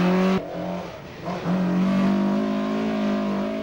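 A Ford Escort rally car drives a tarmac stage, its engine note holding a loud, steady high rev, dipping briefly, then rising again as it powers past close by, with no talk.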